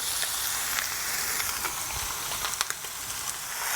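Chicken frying on a commercial electric griddle, pressed under a Lodge pan, giving a steady close hiss and sizzle with a few small pops and crackles.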